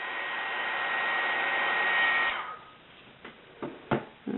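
A heat tool blows a steady, whooshing stream of hot air over embossing powder for about two seconds, then cuts off, followed by a few soft knocks and clicks nearby.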